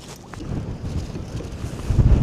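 Strong gusting wind on an exposed shore at Flinders while squid fishing, a rough low rumble buffeting the microphone and swelling louder toward the end.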